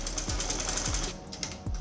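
A sewing machine stitching the shoulder seam of a senator top: a steady mechanical whir with a dull thump about every 0.6 seconds, close and fairly quiet, with no voices.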